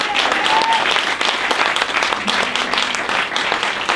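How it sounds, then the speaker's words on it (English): Sustained audience applause fills a Guatemalan lecture hall, dense steady clapping from a large crowd, loud and continuous with a faint voice or whistle briefly in the mix. "give them a round of applause."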